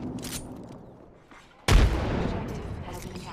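A frag grenade goes off in a video game shooter, with quiet game ambience first and then a single sudden, loud, deep blast followed by a rumbling, crackling tail.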